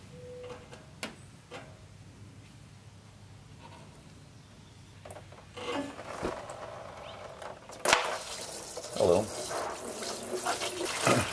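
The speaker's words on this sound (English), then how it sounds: "So let's go ahead and open up the petcock over here." Coolant trickles and splashes out of the opened radiator petcock on a Nissan, a steady flowing sound that grows louder and busier toward the end, with clicks and handling noises close by.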